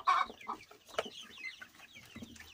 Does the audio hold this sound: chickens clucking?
yes